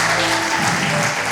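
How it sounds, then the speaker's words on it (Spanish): Dense, steady applause from an audience fills the whole moment, loud and continuous, with no voices on top. "Denle un aplauso a estos hermanos amados que están acá"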